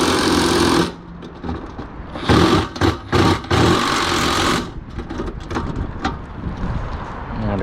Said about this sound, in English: Now this whole thing is back spinning.